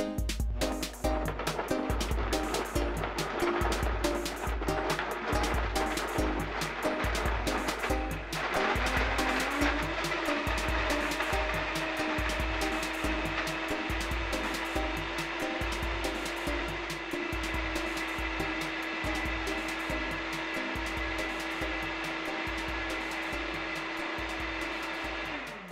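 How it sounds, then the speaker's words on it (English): A Vitamix blender runs at top speed on two heaping cups of frozen strawberries, a loud, steady motor roar with dense grinding texture that settles into a smoother, higher whine as the fruit purées, alone and close for the whole stretch. "I'm slowly ramping to the highest speed and blending for 1 minute."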